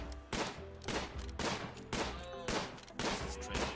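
Repeated game gunshots fired at alpacas in Rimworld, about five sharp bursts spaced roughly half a second apart, loud and upfront with no voice over them.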